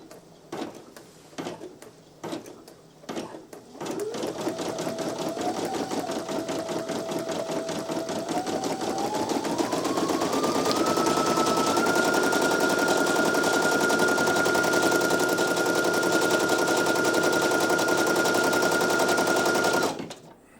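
A Brother PE-900 embroidery machine stitches out a design with a rapid, rhythmic needle clatter that runs continuously and loud for about sixteen seconds after a few separate clicks, its motor pitch rising partway through.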